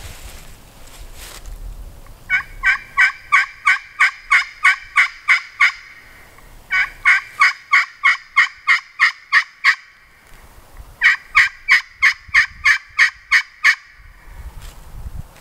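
An Alloy Calls Carbon Cutter turkey pot call played loudly in three runs of sharp, rhythmic yelps, about eight to ten notes each, imitating a turkey, with quiet gaps between runs.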